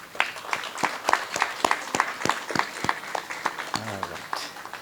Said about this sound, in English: let's give your parents and family a round of applause